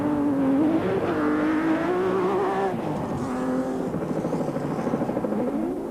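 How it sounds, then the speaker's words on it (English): Onboard a championship-winning South African Nissan Hardbody race truck at the 2003 Carnival City 400, the engine drones loud and steady, rising and falling in pitch as the truck drives on. "Enjoyed the ride on board the championship-winning, proudly South African Nissan hardbody."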